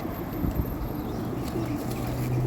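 Homing pigeons coo in low, throaty murmurs, several birds overlapping close by against a steady background hum.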